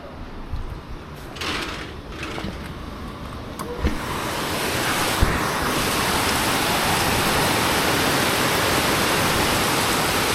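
Steady, dense rain hiss that grows heavier and more constant after a few seconds, with a few soft knocks and bumps early on.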